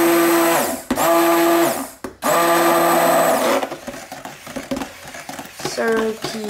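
A handheld stick blender whirs loudly in bursts while blending liquid soap paste, with two strong runs separated by a short pause, then stopping into softer clatter and brief sounds.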